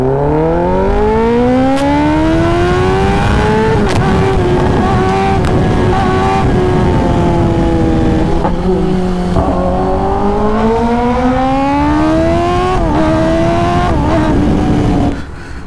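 A Kawasaki ZX-10R motorcycle launches at full throttle using launch control, its engine screaming loud and close as revs climb repeatedly through quick gear changes, with no talk over it.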